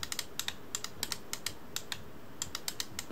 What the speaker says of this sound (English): Looks like we've got a clicky joystick.